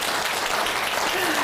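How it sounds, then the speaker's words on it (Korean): Audience at a Korean Buddhist dharma talk clapping, a dense, loud burst of applause filling the room for a brief moment. "박수를 쳐주시려면 크게 쳐주시고."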